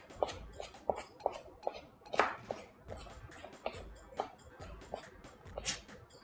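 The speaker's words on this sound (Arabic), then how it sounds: "ادي كده البصل، حاول انعمه شويه اهو" An onion is finely chopped with a knife on a board in a home kitchen, in quick irregular taps and knocks that carry on with no voices over them.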